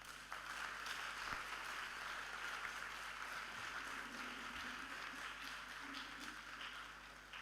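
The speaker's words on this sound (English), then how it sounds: "Keep clapping till it gets to his seat." An indoor audience at a mental health event applauds steadily at moderate volume for several seconds, a dense wash of clapping as a speaker returns to his seat.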